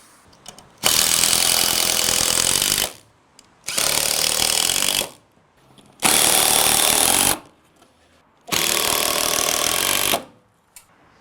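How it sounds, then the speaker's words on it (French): A power screwdriver drives screws into a wooden spacer while a garden shed with a lean-to is assembled: four loud, close bursts of about one to two seconds each, with short quiet gaps between them and no talking. "Donc là, on visse ce qu'on appelle une entretoise."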